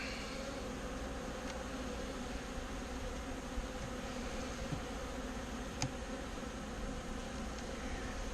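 Honeybees from a spring package hive buzzing around the hive in a dense, continuous, steady drone, close and constant throughout with no voices.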